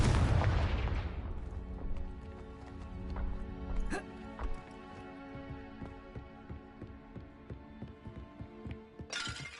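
Confringo spell blast in the video game Hogwarts Legacy: a loud, deep explosion at the start that decays into crackling debris, scattered pops and a ringing tail.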